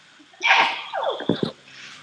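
A single sharp sneeze bursts out close by, a quick intake followed by an explosive release and a short trailing sputter, with faint room noise before and after.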